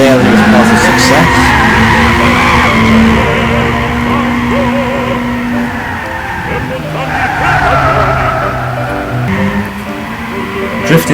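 Sustained tire squeal and engine whine from a car drifting in the video game Gran Turismo 6, loud and continuous with shifting pitch as the slide holds, with a voice talking over it.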